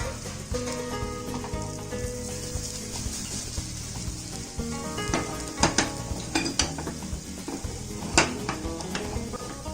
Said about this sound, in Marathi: so that entire omelette will go in the pan